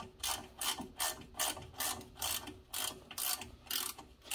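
A ratchet tightens brake caliper bolts on a BMW E36 fitted with four-piston Brembo brakes, clicking in quick repeated bursts of strokes, close and clear.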